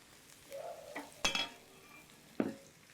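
Chilies and bitter beans stir-fry quietly in a pan for Indonesian grilled rice, with a soft sizzle broken by a few sharp scrapes and clacks of the spatula against the pan.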